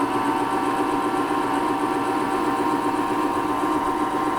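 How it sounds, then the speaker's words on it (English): A Sieg 7x14 mini lathe converted to CNC runs at 1000 RPM, giving a steady, continuous motor whine and hum with even loudness throughout and no speech. "Let's see what the little lathe makes of this. So, at 1000 RPM,"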